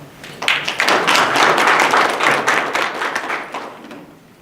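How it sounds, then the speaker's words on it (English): Audience applause for special guests at a Quantum Cloud event: a loud, dense burst of many hands clapping together that swells quickly, holds for about three seconds, then tapers off. "Let's give those special guests a big round of applause."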